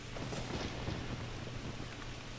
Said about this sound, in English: I don't recall it raining and thunderstorming on Hyrule Field as an adult.